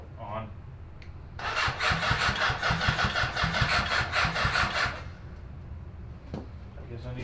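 A 750cc Suzuki four-wheeler engine cranks and churns in a loud, rapid stutter for several seconds without settling into an idle, then stops, with faint movement noises before and after.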